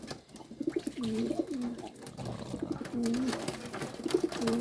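Pigeons coo in repeated low, throaty phrases close by, with soft rustling and fluttering in the background.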